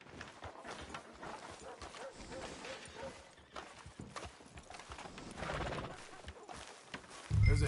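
Horse hooves in Red Dead Redemption 2, rhythmic clip-clop steps at moderate distance with a whinny, mixed with in-game ambience and a dog barking, while voices talk over it.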